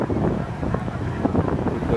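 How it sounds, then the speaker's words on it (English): Strong sea wind at Pattaya beach buffets the microphone in a continuous, loud rush, with possible faint voices under it. "very windy day at Pattaya"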